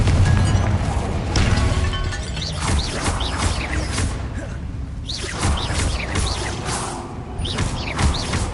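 Blasts from the Confringo spell in Hogwarts Legacy hit amid constant booming combat, with whooshes, crashes and fiery bursts layered together at high loudness and no clear pause.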